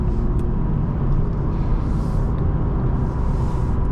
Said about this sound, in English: And you really want to spin out that engine to get the power here.